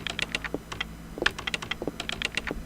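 Computer keyboard keys typed in quick, uneven bursts of crisp clicks, close and fairly quiet, with short pauses between clusters and no talking.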